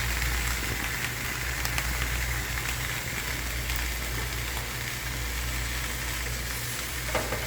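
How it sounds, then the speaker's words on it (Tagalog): Tilapia grilling on a home gas stove instead of charcoal, giving a steady, close sizzle and crackle of frying that runs evenly throughout with no pauses. "Wala tayong uling guys, kaya sa kalan na lang mag-ihaw."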